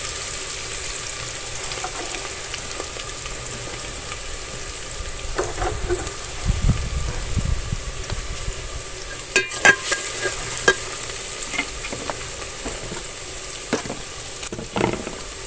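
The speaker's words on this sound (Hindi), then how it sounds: "अब लहसुन को थोड़ी देर भून लूँगी।" Garlic sizzles gently in a pan for a cholay dish, with a steady fry hiss broken by scattered scraping and clinking as a spoon stirs, fairly close and without talk.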